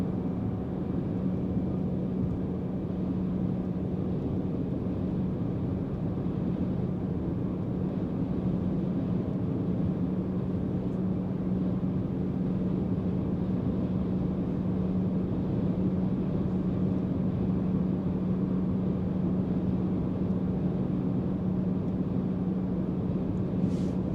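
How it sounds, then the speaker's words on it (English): A Tesla Cybertruck cruises on a freeway with warmed-up tires under supervised full self-driving, heard as an unbroken low road and cabin drone, even and steady throughout with no talking. "Cybertruck just drives so smooth on the freeways."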